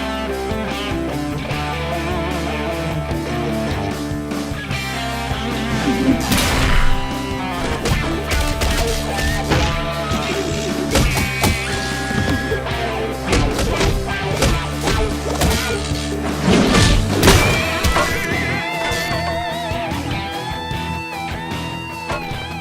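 Pugil stick combat in Halo machinima, with repeated smashing and thwacking hits landing over a continuous musical score and a few loud crashes standing out.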